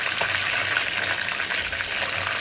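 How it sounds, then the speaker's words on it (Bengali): Chicken pieces fry lightly in hot oil, giving a continuous bright hiss and crackle at close range, fairly loud and even, with no voices. "মুরগিটা বেশি কড়া ভাজা দিব না, হালকা করে ভেজে নেব"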